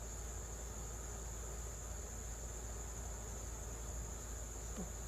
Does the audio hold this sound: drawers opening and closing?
no